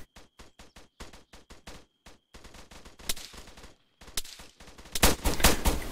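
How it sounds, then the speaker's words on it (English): Rapid gunfire in a military video game, bursts of sharp shots in quick strings with short gaps, growing denser and louder toward the end, no voices. "Under fire from the church."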